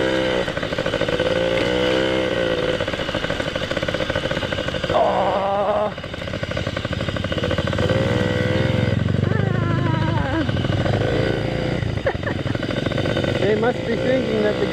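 Yamaha PW50 motorcycle ridden by a heavy adult, its small engine buzzing and revving continuously throughout, with a person talking over it much of the time.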